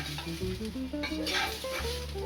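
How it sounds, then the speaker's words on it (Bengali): Rice for Bengali-style egg pulao frying and being stirred in a pan, a close, continuous sizzle with occasional utensil scrapes beneath a melodic music track. "ভালো করে চালগুলো ভাজা ভাজা করে দিই এই যে দেখুন আমি পোলাওয়ার চালটা ভালো করে ভেজে নিয়েছি"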